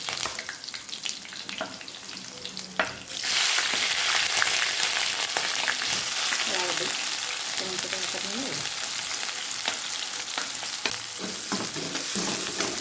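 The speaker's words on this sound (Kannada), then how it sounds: "ಉಳ್ಳಾಗಡ್ಡೆ ಸ್ವಲ್ಪ ಫ್ರೈ ಆಗಿದೆ ನೋಡಿ" Mustard seeds, cumin, curry leaves and chopped onion fry in hot oil, giving a dense, steady sizzle that jumps in loudness after a quieter start and then crackles on continuously at close range.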